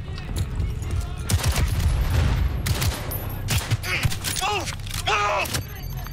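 Rapid gunfire and grenade blasts in Cyberpunk 2077 crackle in dense, loud bursts during a hectic firefight, with a player's voice talking over the combat noise.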